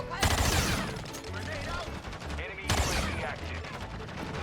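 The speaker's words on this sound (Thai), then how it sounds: "ยิงกันโคตรเดือดโคตรโหด" Rapid gunfire from the video game Warzone comes in two loud, dense bursts of overlapping shots and automatic fire, with chaotic battle noise between them.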